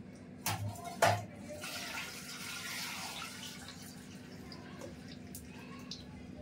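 Water runs and splashes steadily into a cooking pot, with a couple of louder clunks near the start and a continuous low hum underneath.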